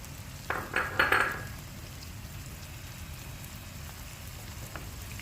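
Onions for a samosa filling go into a hot pan: a brief burst of clattering and sizzling, then a steady, soft frying hiss that carries on alone.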